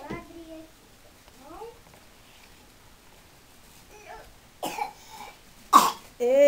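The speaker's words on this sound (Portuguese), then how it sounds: "Eita, tosse!" A two-year-old child at a birthday party coughs a few times in short, close bursts near the end, with other voices chattering around.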